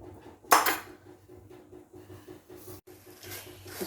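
Vermicelli for sweet kimami sevai being stirred in a pan over low heat, opening with a sharp metal clank of utensil on pan followed by soft scraping and light stirring.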